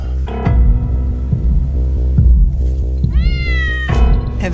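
A cat meows, its rising, drawn-out cries standing out clearly over a steady low hum and busy background sound, with a final sharper yowl near the end.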